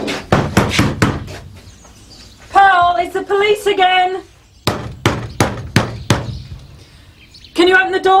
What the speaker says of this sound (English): someone had been knocking at the door of their house